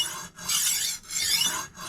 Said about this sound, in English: here's a side angle of the actual knife sharpener from Tumbler